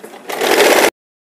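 A sewing machine runs a short stitching burst through layered net and lining fabric of a princess-cut blouse, a close whirring rattle that speeds up and then stops abruptly.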